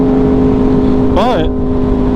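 An Aprilia motorcycle engine drones loudly and steadily with a brief rising and falling rev swell midway, all close up.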